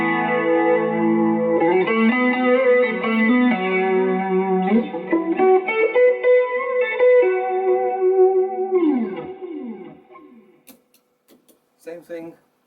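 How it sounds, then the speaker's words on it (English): An electric guitar played through a wet amp channel with modulation and delay effects sounds close and loud. Chordal and melodic phrases swirl with echoing repeats, then fade to near silence with a few faint trailing taps at the end. "through the wet channel only with the modulation and the delay on."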